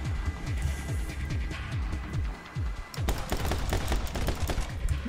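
Rapid gunfire rattles in My Friend Pedro, a fast run of repeated shots over a throbbing low beat, thinning briefly before a denser burst of close, loud shots, with no talking.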